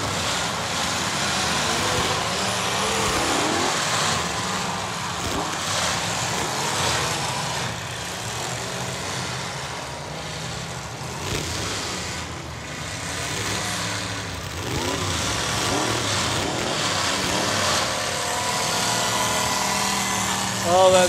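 A tractor-pull machine roars steadily at wide-open throttle for the whole stretch, loud and sustained with its back tire spinning, while an announcer talks over the engine noise.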